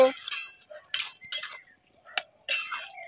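A lid set onto a cooking pan while making a spring onion dish: one brief metallic clink between bursts of nearby speech, fairly quiet overall.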